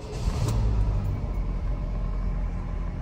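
A Chevrolet Cavalier convertible engine rumbling steadily at idle after a brief rise, low and continuous, with no talking.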